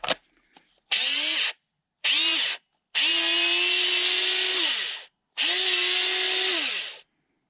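A Ryobi power tool, its motor stiff and clogged with drywall dust, whirs loudly in four separate bursts, each spinning up, holding a steady whine and winding down.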